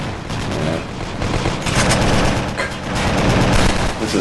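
Rapid bullet fire from a fighter plane in the PS3 arcade shooter 1942: Joint Strike, a dense continuous stream of loud shots overlapping with game effects for the whole stretch, no talking.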